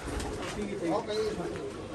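Pigeons coo softly and continuously in the background while people talk nearby.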